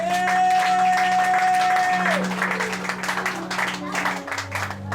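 A church congregation claps and acclaims after a call to cheer, dense applause rising over a held keyboard chord and shouting voices, steady and fairly loud throughout.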